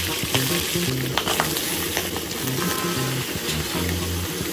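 Boiled pork belly chunks fry in hot oil in a pot while being stir-fried, a dense continuous sizzle with crackling pops and scraping stirs, close and steady throughout without talk.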